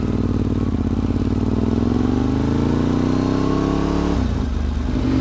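A Ducati 848 sport motorcycle accelerates hard, its loud engine note rising steadily in pitch for about four seconds before a sudden gear change drops it, close and continuous with no talk.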